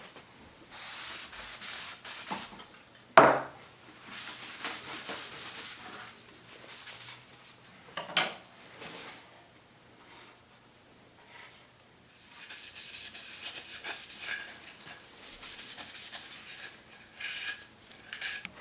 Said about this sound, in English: We're just going to put a coat of wipe on poly.